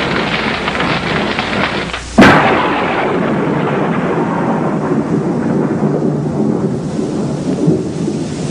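A loud thunderclap cracks sharply, then rolls and fades into steady heavy rain in a mountainous thunderstorm, with continuous downpour noise throughout.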